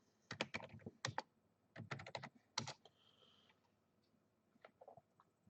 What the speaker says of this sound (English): Then we will go to Google and just type Android